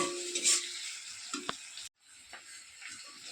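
Onion, ginger and garlic paste sautéing in hot oil for a fish curry with potato and tomato, a steady sizzle with scrapes of stirring, one sharp clink, then a brief drop before the frying resumes more quietly.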